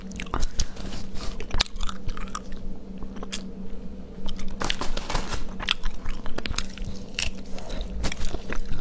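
Close, crisp crunching and wet chewing of food at an eating mukbang, with repeated bites and soft squishy mastication continuing steadily throughout, no talking.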